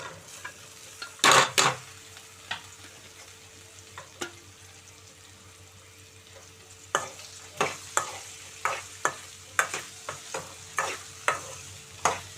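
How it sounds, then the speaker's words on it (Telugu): Thinly sliced okra fries in a pan after an onion and green chilli tempering, with a low sizzle under a burst of loud scraping and then repeated clinks and scrapes of a spatula stirring, close and with no speech. "ఇప్పుడు మనం సన్నగా తరిగి పెట్టుకున్న బెండకాయ ముక్కలు అయితే దీనిలో వేసేసుకుందామండి"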